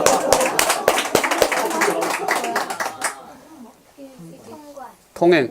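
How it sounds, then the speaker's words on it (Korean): Audience clapping at a Korean lecture on the Kaesong Industrial Complex, a burst of sharp, close hand claps for about three seconds that then stops, after which people talk quietly. "박수 한번 치자."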